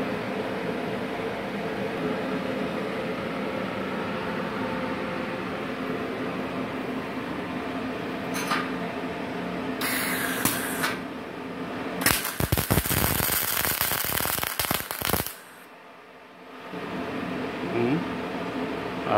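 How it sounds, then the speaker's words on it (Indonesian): A Japanese automatic welding machine welds over a steady hiss, with short crackling bursts and then a longer loud sputtering run that cuts off abruptly before the background noise resumes. "Saya akan coba untuk mengelas,"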